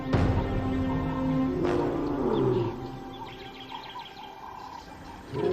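Lions in a reserve roar to signal their position, a loud, deep, drawn-out roar up close that trails off into lower grunts, with birds chirping faintly in the background.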